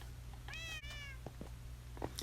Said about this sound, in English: there are so many cats here